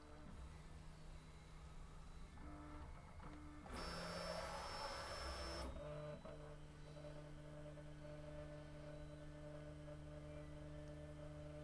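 A Prusa MK3S 3D printer runs its calibration, a quiet steady electrical hum with tonal motor whines, and a brighter burst of stepper noise for about two seconds in the middle.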